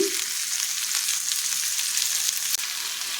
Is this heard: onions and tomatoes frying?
yes